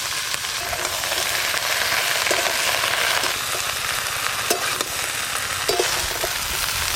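Okra sizzles and fries in a pan with potatoes and turmeric powder, a loud steady crackling hiss broken by the occasional scrape and clack of a spatula stirring, with no voices.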